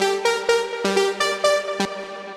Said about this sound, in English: You have a saw and triangle wave mix here, one voice and oscillator B, 4 voices, so bringing in the width.